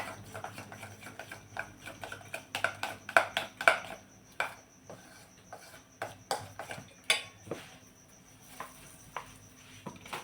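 Alu vadi batter of gram flour and water is whisked in a mixer jar, giving a run of quick scraping clinks and taps, louder and denser in the first half, then sparser.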